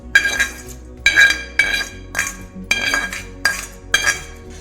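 A spoon mixes a tempering of urad dal, cumin and mustard seeds into raw mango chutney, ringing out about seven loud, regular metallic clinks against the bowl, close up.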